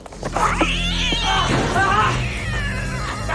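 Cat caterwauling in a drawn-out, wavering yowl that rises and falls, loud and close, lasting most of the span with a brief shorter cry at the start.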